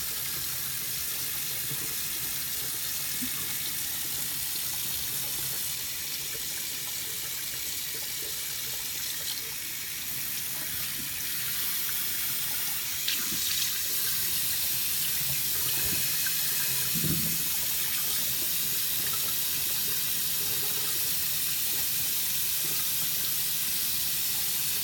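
Water runs steadily from a bathroom tap into a sink while a face is rinsed after cleansing, a continuous close hiss and splash with brief louder splashes partway through and no talk.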